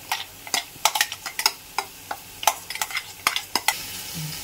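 Ground spice paste for chicken dum biryani added to a pot and stirred, giving a run of sharp, close spoon clacks and scrapes over a faint sizzle, no talking.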